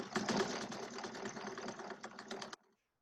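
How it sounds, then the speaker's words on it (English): A sewing machine stitches along the long edge of a fabric mask in a rapid, even mechanical run that lasts about two and a half seconds, then stops abruptly with nothing after. "And I sew to the corner."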